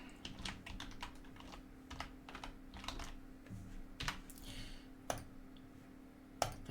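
Typing on a computer keyboard while entering an email address, a steady run of quiet, close key clicks with a few sharper taps and short pauses, no talking.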